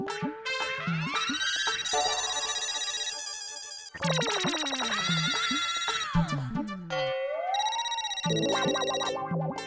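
A phone ringtone plays loudly and alone in a scene of the Indian sitcom Taarak Mehta Ka Ooltah Chashma, a bright repeating electronic melody in bursts with short breaks, close and continuous.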